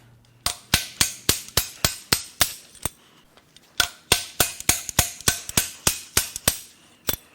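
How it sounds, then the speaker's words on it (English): Sharp metallic impacts of a slide hammer pulling a guide pin from a Mercedes 5.8L V12 M137 engine strike in quick, steady succession, a burst of about eight, a short pause, then another run of about ten, loud and close. "I need to use a slide hammer"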